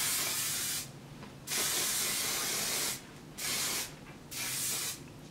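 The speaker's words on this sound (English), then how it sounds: "I'm going to spray some more hairspray" A hairspray can hisses in three close bursts, each a steady sharp spritz lasting about a second, separated by brief pauses.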